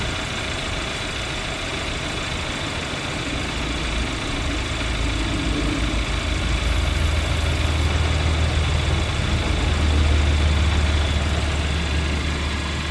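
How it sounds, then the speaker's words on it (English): A car engine idles steadily with a constant low rumble, close and continuous, while the charging system and alternator are being tested with a voltmeter. No one speaks. "Start the engine and measure the voltage again."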